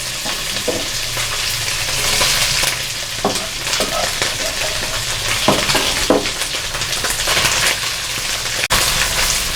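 Beef frying in a pan with ginger garlic paste, a loud continuous sizzle with intermittent stirring scrapes and soft thuds, close and without any talking.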